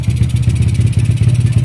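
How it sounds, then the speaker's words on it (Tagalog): A Honda Wave 100 motorcycle engine idles steadily at close range, a continuous low mechanical drone with a faint clattering pulse throughout, the engine having had issues from stale gasoline. "Ang andar naman ng makina niya ay okay na,"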